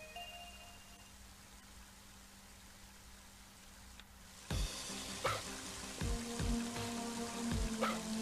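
Rain in the video game Mother 3: a quiet steady hiss runs under a low hum, then from mid-clip a louder, broadband rush of rain with scattered drops and splashes fills the rest.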